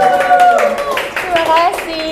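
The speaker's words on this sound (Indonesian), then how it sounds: "Tepuk tangan dulu." Audience clapping for a clinical psychologist introduced at a Puteri Indonesia-related podcast event, brief scattered claps under prominent music-like tones and chatter, fairly loud and close.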